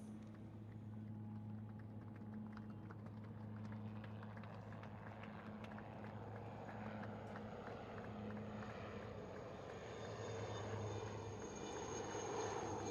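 Three Chetak helicopters of 321 Fleet Support Squadron fly in arrowhead formation at a naval ceremony, a steady distant engine drone with a low rotor hum holding evenly throughout, no talk.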